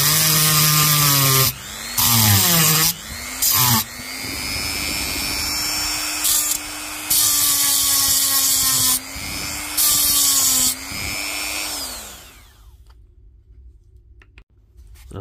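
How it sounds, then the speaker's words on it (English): Dremel rotary tool scuffing residual solder off battery terminal ends during a Milwaukee M18 battery board replacement: a close, high whine with pitch wavering under load and intermittent gritty grinding bursts, then spinning down. "we'll probably just scruff up these ends with the Dremel and try and make sure there's no residual solder on these tips"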